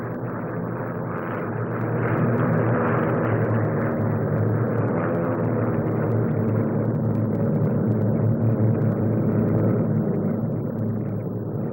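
A Bristol 173 twin-rotor helicopter with two Alvis Leonides engines drones steadily at the 1957 SBAC Farnborough flying display, a loud, continuous, muffled roar with no pauses.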